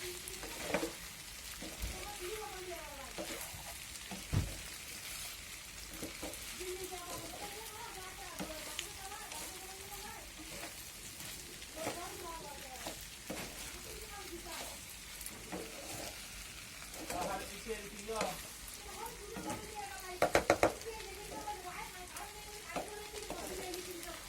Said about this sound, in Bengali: ম্যাজিক মশলা দিয়ে নাড়াচাড়া করতেছি।